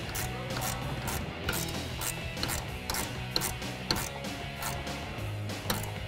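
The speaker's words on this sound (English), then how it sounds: "then we'll tighten it up with a 1/2 inch wrench" A 1/2 inch wrench ratchets a clamp tight on an Extang eMax soft tri-fold tonneau cover on a 2015-2018 Ford F150, repeated quick clicking strokes in a steady rhythm over low background noise.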